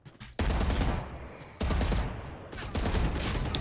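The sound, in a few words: gunshots in a video game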